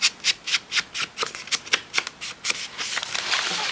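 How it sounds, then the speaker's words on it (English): Scissors snip a small point off a paper tuck in a handmade journal: a quick run of crisp, papery cuts in a steady rhythm, followed by a softer continuous rustle of paper, close and fairly quiet. "Snip that little point off."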